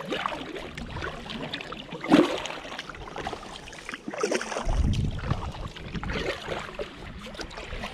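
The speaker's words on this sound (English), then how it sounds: "I can actually paddle without any light" A small boat paddled at night, with soft water swishes and splashes from paddle strokes, low rumbling wind noise and a louder gurgling wash near the middle.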